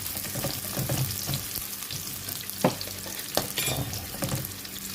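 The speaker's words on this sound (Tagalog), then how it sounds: "Magisa muna tayo ng sibuyas, bawang, luya, and of course mayroon ng sili." Onion, garlic, ginger and chili sautéing in a pan, a steady close sizzle broken by scattered clinks and scrapes of stirring, with no voices.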